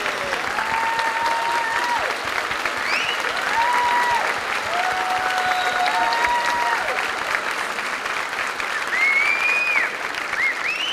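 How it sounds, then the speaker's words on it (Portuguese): A seated audience at a literary talk at Sesc Pinheiros rises for a standing ovation for a Brazilian writer: dense, sustained applause fills the hall, with a few whistles and cheers, and a voice speaking briefly over it. "Os mestres a gente aplaude de pé, né?"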